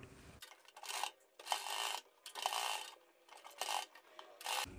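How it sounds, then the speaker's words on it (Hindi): A sewing machine stitches a neck onto a kurti in several short mechanical bursts of rapid clattering, close and moderately quiet, separated by brief pauses. "हम अपने नेक को इस तरीके से पूरी सिलाई मारकर अटैच कर देंगे।"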